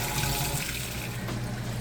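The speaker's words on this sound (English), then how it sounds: "now we're draining the water out. You can hear that drain running nice and fast." A Whirlpool Amana top-load washing machine drains its water, making a steady loud gushing rush with a low hum. It sounds close and continuous, with no talking over it.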